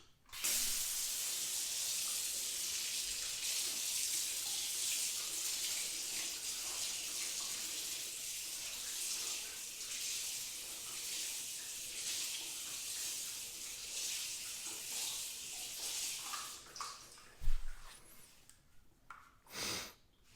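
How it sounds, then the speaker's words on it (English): Hose water sprays loudly and steadily, rinsing soap off a car after a Turtle Wax Ceramic 3 in 1 detailer test, with the hiss faltering and cutting out near the end. "So let's just get straight into the rinse here and see how they look."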